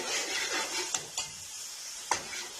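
Soft sizzling as spices and kasuri methi roast in a pan, a spoon stirring with occasional scrapes and clinks against the metal, steady and close by.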